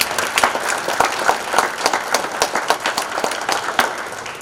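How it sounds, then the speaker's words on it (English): An audience at a hall of fame ceremony applauds steadily, many hands clapping with sharp individual claps standing out, fairly close and without talk. "A round of applause for them, please."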